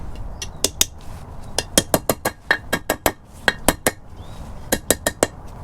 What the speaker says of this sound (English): So I got my brass hammer and I'm just going to tap it and try to get it started.